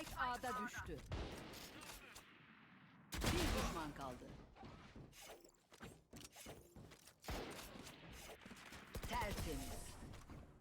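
Rapid automatic rifle fire from Valorant gameplay, including the fast-firing Phantom, comes in several loud sharp bursts of shots with clicks and thuds between them, while a player talks over much of the action.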